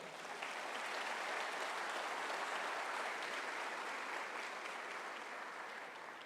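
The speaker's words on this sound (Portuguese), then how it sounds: "Quem está pronto para isso, diga amém, e dê um aplauso bem forte ao Senhor." A church congregation applauding, a dense, sustained wash of clapping from many hands that stays loud and even for the whole stretch, with no talk.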